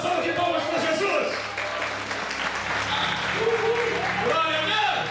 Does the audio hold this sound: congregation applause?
yes